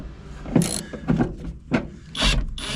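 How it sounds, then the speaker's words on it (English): A seatbelt bolt being undone with a T50 Torx bit in the cab of an older Ford truck, a series of short ratcheting clicks and metallic turns in separate bursts, close and alone. "To get this column trim off, we're gonna have to unbolt our seatbelt, and that requires a T50 Torx"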